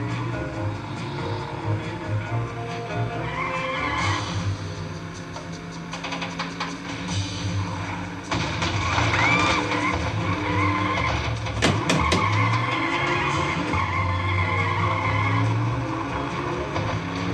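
Engine roar and tire skids come from a Cruis'n USA arcade racing cabinet as the car is driven without third gear. The engine drones steadily, and loud squeals and screeches break out through the second half.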